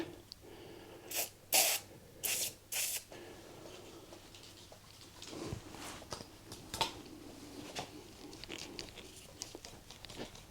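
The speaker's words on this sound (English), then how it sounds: "A bit more spray" Four short, sharp hisses from an aerosol lubricant spray on a Royal Enfield Classic 350's bent steering in quick succession, then faint clicks and rustling of handling close by.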